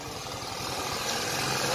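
The engine of a vintage two-stroke Indian motorcycle runs steadily at a fairly close distance, a continuous buzzing drone that grows slightly louder over a short stretch.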